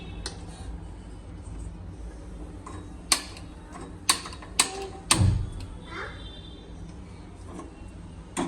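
Gas stove being lit in a home kitchen: several sharp igniter clicks spaced a second or so apart, then a soft whoosh as the burner catches, over low room hiss.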